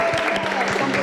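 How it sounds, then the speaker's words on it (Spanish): Brief applause from a studio audience on a television show, scattered clapping with voices mixed in. "Un aplauso otra vez a Anadila."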